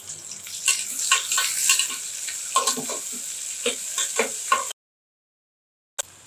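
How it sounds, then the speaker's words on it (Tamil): Chopped onion, curry leaves, fennel and green chilies frying in a pan for a Tamil green gram gravy: steady close sizzle with scraping stirring strokes, then a sudden cut to silence and a brief return at the end. "இது இன்னும் கொஞ்சம் வதங்கட்டும்"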